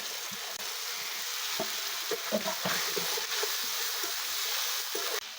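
Ground tomato paste going into a pan of frying cumin and spices, a steady close sizzle with faint scraping of the stirring spoon throughout.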